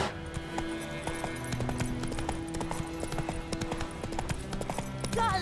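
A horse trots in The Witcher 3, its hooves clip-clopping in a quick, steady rhythm beneath a low game soundtrack, with a short whinny near the end.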